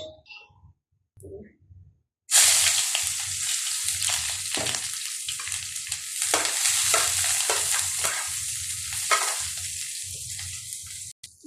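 Young pumpkin frying in a pan, opening with quiet clicks and water-like sounds, then a loud, sustained sizzle with repeated stirring scrapes and spatula knocks running continuously to the end.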